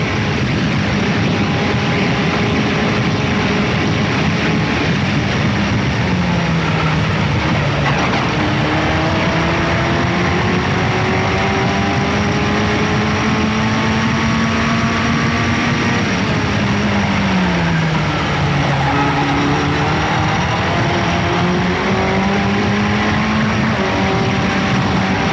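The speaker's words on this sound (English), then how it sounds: "You can hear the wind just coming over the top of the front wing as Richard Carter goes out after Tomas Mezer" Continuous broadband roar of a 1985 Formula Ford racing car at speed, recorded onboard, with wind rushing over the front wing, engine tones sliding up and down as it accelerates and shifts, steady and loud.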